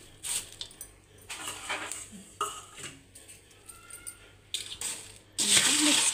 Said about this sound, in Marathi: आता असा चिवडा मिक्स करून घ्यायचा।